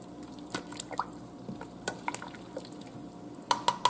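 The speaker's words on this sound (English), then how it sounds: "we're going to give that a stir to make sure we incorporate them down in this pot" A spoon stirs a big pot of low country boil with potatoes, making faint, sparse clinks and soft liquid sloshes that stay quiet throughout.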